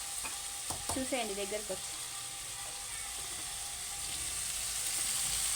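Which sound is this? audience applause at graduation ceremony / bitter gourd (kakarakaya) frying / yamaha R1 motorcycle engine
bitter gourd (kakarakaya) frying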